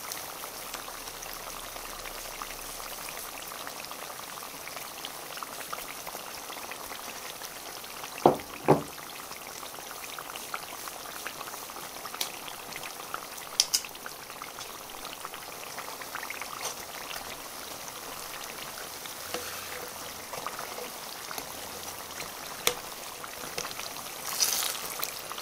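Banana rolls (turon) frying in hot oil give a steady, faint, fine crackle and sizzle throughout, with a couple of brief sharper pops and clinks, and no talking.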